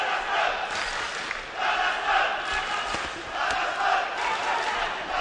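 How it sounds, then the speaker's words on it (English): A large boxing arena crowd chants rhythmically in rising and falling waves for a Kazakh boxer during an amateur bout, the massed voices steady and fairly distant with no clear individual talk. "Hear the crowd chanting for that Kazakh boxer."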